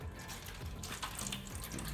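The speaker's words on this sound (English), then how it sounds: "So you pour your apple juice" Apple juice poured into a foil pan for pulled pork, a steady close gushing stream of liquid that runs continuously without talking.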